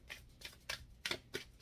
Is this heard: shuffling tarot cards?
yes